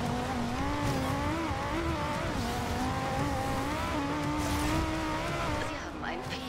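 A car in the Forza Horizon 2 racing game takes a tight curve, its engine holding a steady, wavering drone close up throughout, with a brief rise in pitch near the end.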